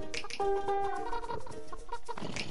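A chicken clucks and squawks in a video game, giving several short, fairly close calls in quick succession with a brief tonal cry in the middle.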